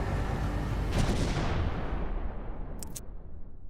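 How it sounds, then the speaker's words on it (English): A missile warhead detonates just meters from an airliner cockpit, a loud, rumbling blast that washes over everything and decays slowly, with a couple of sharp cracks near the end. "Guided with precision, the warhead detonated just meters from the cockpit."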